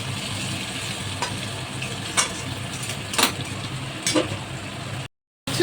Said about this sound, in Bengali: দেখুন কি সুন্দর ঝরঝরে ভাজা